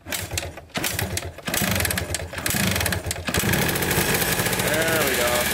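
A Yamaha Blaster ATV engine catches after a kick start and runs with a loud, buzzing two-stroke rattle close by, revving steadily while people talk over it.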